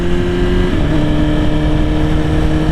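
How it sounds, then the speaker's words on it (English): A Suzuki GSXR1000R or Yamaha R1 superbike with a quick shifter holds a loud, close, steady engine drone. The pitch drops briefly once, as if shifting gear, and no one talks. "So lovely racy note off it, and the quick shifter as well, really nice and smooth."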